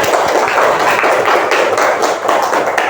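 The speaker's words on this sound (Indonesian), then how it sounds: "Tepuk tangan untuk Yumna." A classroom of pupils claps for a classmate during a lesson, steady busy clapping that carries on evenly throughout, fairly loud and close.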